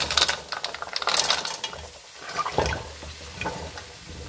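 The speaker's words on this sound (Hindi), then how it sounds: "अब हम ये जो हमने सब्जियां कलेक्ट करके रखी हैं ये डाल देंगे इसमें" Chopped mixed vegetables tipped into a pan of ground red chilli and spices and stirred for a dhaba-style mixed vegetable dish, with a spoon clattering and scraping and a soft sizzle in short irregular bursts.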